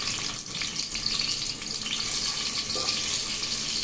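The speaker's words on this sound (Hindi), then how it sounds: "रिफाइन और घी लिए हैं, इसमें आलू फ्राई कर ले रहे हैं।" Potatoes frying in a pan of refined oil and ghee for a Sindhi biryani, giving a steady, loud, hissing sizzle throughout with no talking.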